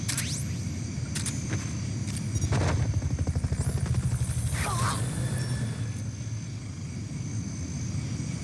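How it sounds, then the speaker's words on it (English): A Fulton recovery helicopter from the Metal Gear Solid Peace Walker game makes a steady, loud rotor rumble with a throbbing beat that strengthens midway, plus higher whines and game effects over the top. "Fulton recovery helicopter is complete."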